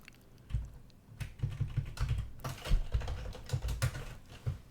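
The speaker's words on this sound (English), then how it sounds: "let's type this out here" Code is typed on a computer keyboard in quick, uneven bursts of close clicking keystrokes with brief pauses between runs.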